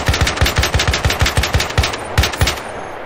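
Rapid rifle fire in Battlefield 4 on Xbox 360, a support rifle shooting in a fast, steady burst of about a dozen loud, close shots, a short pause, then a few more rounds.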